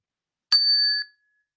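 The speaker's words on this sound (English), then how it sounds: "If you heard the bell" A single bright bell strike rings out cleanly and decays over about half a second, alone in silence.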